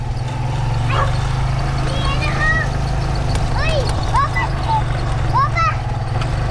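A small dog barks and yips in short bursts over a constant engine drone, with a few brief sharp calls scattered through.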